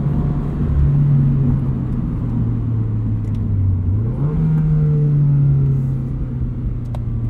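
A modified Toyota GR86 with an automatic transmission accelerates through a canyon, its engine droning steadily with a brief dip and rise in pitch as it shifts, heard from inside without talking.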